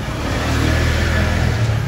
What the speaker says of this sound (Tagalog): may dumadaan na motor